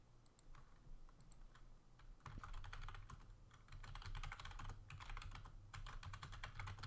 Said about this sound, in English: My keyboard is freaking loud, man.